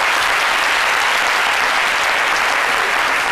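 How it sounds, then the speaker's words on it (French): A studio audience applauds loudly and steadily for the whole moment, a dense, even wash of clapping without pauses. "On l'applaudit très fort."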